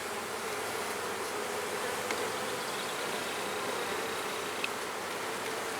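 Honeybees swarming around an open hive during a frame inspection, a dense, continuous buzzing drone, close and steady, with no talk.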